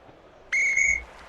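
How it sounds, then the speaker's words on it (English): Referee's whistle at a 1976 NCAA Tournament college basketball game, Arizona vs. McNeese State: one sharp, loud half-second blast standing clear of a low arena murmur. "Whistle"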